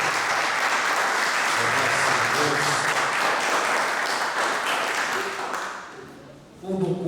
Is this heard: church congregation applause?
yes